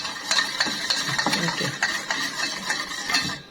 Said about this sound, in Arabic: بتجيبي بنت الميه المغليه وتقلبي لحد ما هي تفك معاكي